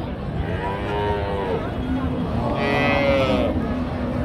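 A dairy cow at a busy cattle market lets out long, loud, close moos, one drawn-out call followed by another, over a low murmur of the crowd.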